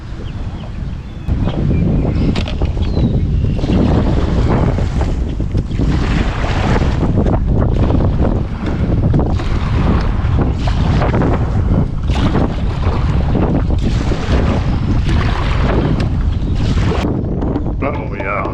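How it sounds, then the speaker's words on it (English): Strong wind buffets the microphone on a farm pond while fishing from a boat, a steady loud roar with gusty surges and water sounds running for the whole stretch. "Wind blowing me."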